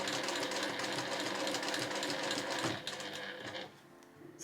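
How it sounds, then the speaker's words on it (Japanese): A sewing machine runs steadily as it stitches a straight seam in cotton cut-cloth fabric for a small glasses case, whirring densely and close, then easing off to a quieter hum near the end. "そしたらまっすぐ前に進んで縫っていきます。"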